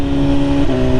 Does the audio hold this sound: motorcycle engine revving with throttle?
yes